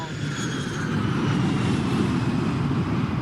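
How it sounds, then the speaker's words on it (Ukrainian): A loud, steady roar of an airplane flying overhead, its propeller engine droning without a break. "Літак форте, голосно."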